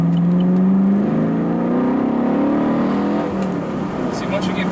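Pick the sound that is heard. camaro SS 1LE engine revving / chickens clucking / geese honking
camaro SS 1LE engine revving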